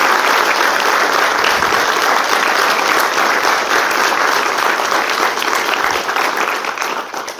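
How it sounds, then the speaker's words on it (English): An audience at the Gettysburg Foundation's Sacred Trust Talks applauds Wayne Motz and the Foundation staff. The applause is loud and dense, holds steady for several seconds and then begins to fade near the end. "please, a round of applause for Wayne and the Foundation staff"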